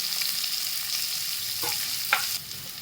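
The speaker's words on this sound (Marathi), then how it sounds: "कांदे घेतले छोटे चिरून ते टाकते" Finely chopped onion fries in a pan with an even, close sizzle, and a couple of brief scrapes of a spatula near the end.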